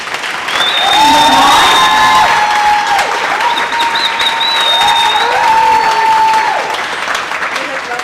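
Loud audience applause and cheering fill the space, sustained clapping from a large crowd with some whistles rising above.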